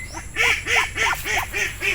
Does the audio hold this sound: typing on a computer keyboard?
no